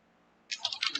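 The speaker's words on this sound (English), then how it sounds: "I will remove this description from here, and I will type here" Typing on a computer keyboard: a short run of about six quick, crisp key clicks, close and fairly faint, following a moment of near silence.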